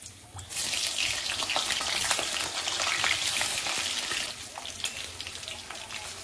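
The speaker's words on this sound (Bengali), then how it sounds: "আলুটাও আগে ভেজে নেবো" Cut potatoes fry in hot oil in a pan with a loud, dense sizzle and crackle that swells early and then eases a little, heard close with no talking.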